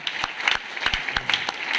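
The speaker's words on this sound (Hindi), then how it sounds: "जोरदार तालियां चाहूंगा" Scattered clapping from a seated audience at a business mentorship gathering, sharp separate claps that suggest a small crowd, moderately close and steady for a couple of seconds with no voices.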